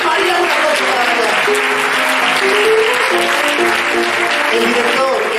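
Audience applause at a youth and adult theatre workshop in a municipal library, a continuous loud clapping bed running under a voice that keeps talking.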